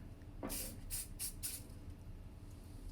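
Several short hissing bursts of a disinfectant spray being squirted onto hair clipper blades, close and fairly quiet, with a low background hum.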